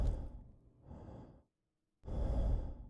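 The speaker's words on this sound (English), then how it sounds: "Breathing sounds normal." A patient in a video game breathes in two soft, close breaths, like sighs or gasps, separated by a brief pause of silence.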